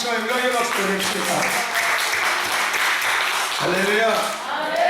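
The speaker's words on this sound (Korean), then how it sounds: "하나님께 감사와 영광의 박수 드립시다" A church congregation applauds at a Korean worship service, with a speaker's voice carrying on over the steady clapping throughout.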